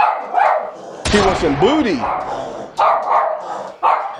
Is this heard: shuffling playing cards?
no